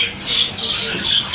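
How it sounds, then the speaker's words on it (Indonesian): A Bali starling at a bird-seller's kiosk lets out harsh, scratchy squawks in quick succession, close and fairly loud, with faint background chatter around it. "Ini jalak Bali yang satuan."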